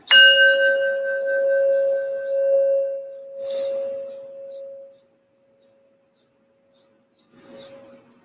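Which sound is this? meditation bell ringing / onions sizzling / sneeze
meditation bell ringing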